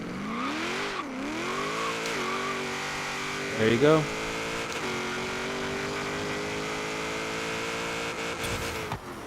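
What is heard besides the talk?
1972 Ford Falcon XA GT-HO drag launch, tires spinning, Forza Horizon 3 video game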